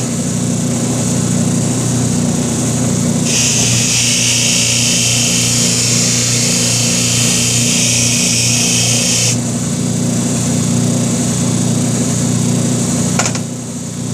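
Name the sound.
buffing wheel polishing BigDog oil tank top cover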